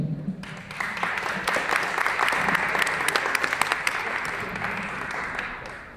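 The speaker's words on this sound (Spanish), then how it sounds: "Un aplauso, por favor." A crowd at a law conference claps steadily for several seconds, a dense sustained round of applause that fades slightly at the end.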